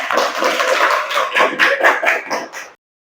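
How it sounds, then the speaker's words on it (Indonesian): Students in a classroom clap for group 1 as it comes forward to present: a short, close burst of hand claps that thickens into a rhythmic patter, then cuts off abruptly. "Tepuk tangan buat kelompok 1."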